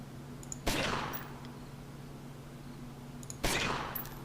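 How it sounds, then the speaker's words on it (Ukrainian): Two sharp gunshot blasts about three seconds apart over a steady electronic hum, gunfire in the video game Omerta - City of Gangsters, with no talking. "Все, нормально постріляли."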